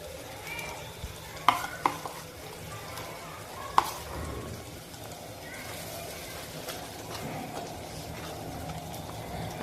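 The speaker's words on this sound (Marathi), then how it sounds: "आता हे सर्व वाटण एकत्र मिक्स करून घेते आणि चांगलं परतवून घेते" A paste of grated coconut and roasted gram stir-fried in a pan sizzles steadily up close, broken by a few sharp utensil clinks and scrapes as it is turned.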